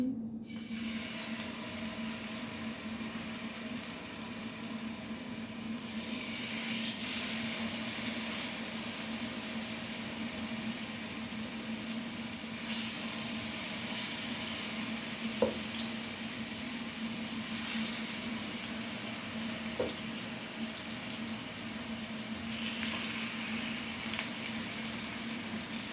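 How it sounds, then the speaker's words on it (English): Pork chops searing in hot oil, a steady faint sizzle with a low hum and a couple of soft clicks. "So we're going to let that fry and get seared on both sides."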